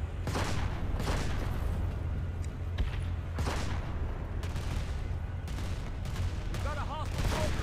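Dense gunfire in the sci-fi shooter Planetside 2 during a massive battle, with rapid bursts of shots crackling continuously over a constant low rumble for the whole stretch, loud and close.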